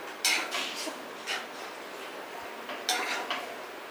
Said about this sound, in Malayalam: പിന്നെ നന്നായിട്ടൊന്ന് ഇളക്കി മിക്സ് ചെയ്യണേ.